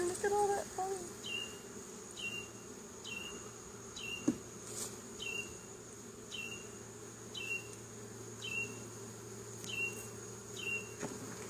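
Honey bees buzzing steadily around an opened hive during an inspection, a continuous insect drone close by with no talking.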